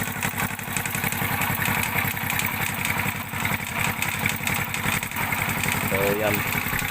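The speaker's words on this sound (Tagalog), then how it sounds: "Yung makina natin mga tol, medyo mausok na ito." A DIY four-wheel vehicle built on an angle bar frame idles with a rapid, steady chugging engine note that is loud and close. The engine runs somewhat smoky, and a voice speaks over it.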